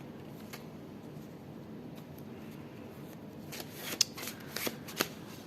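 Tarot cards are shuffled and handled up close, soft papery riffles and light slaps that grow busier toward the end, with a few sharp snaps against a quiet background.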